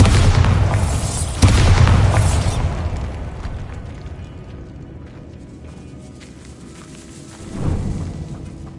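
A Bombarda explosion spell in a fantasy game detonates with a heavy boom, then a rumbling crumble that slowly fades. A second, softer thud follows several seconds later in an echoing catacomb.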